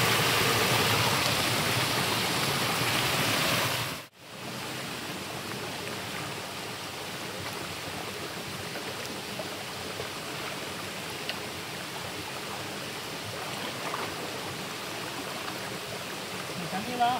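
Mountain stream water at Sathuragiri rushes steadily in a broad, continuous wash; after a brief drop it keeps flowing at a lower, even level to the end, with no other sounds standing out.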